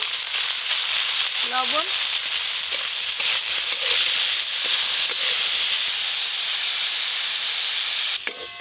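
Washed, cut cauliflower tipped into hot oil tempered with whole cumin and dried chillies over a clay stove, giving a loud, steady hissing sizzle with a brief spoken word near the start.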